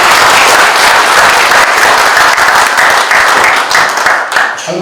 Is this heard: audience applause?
yes